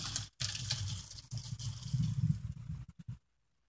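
Starchy pasta water pours out of a heavy pot into a sink, a gurgling, splashing rush that wavers in strength and breaks off into a few final drips and spatters before going quiet.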